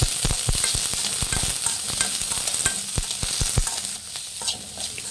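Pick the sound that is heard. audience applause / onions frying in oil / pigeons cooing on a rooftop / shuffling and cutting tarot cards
onions frying in oil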